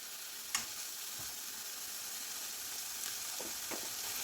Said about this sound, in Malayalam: നല്ലതുപോലെ ഒന്ന് വഴറ്റിയെടുക്കാം.